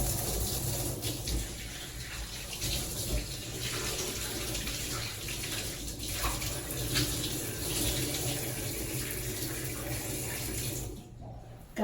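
Water runs steadily into a bathtub, a continuous broadband rush that holds at an even level for about eleven seconds before cutting off near the end.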